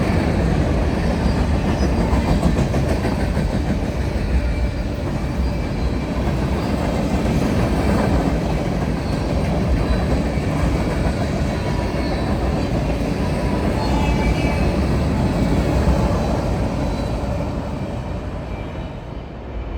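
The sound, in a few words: freight train of empty center beam cars passing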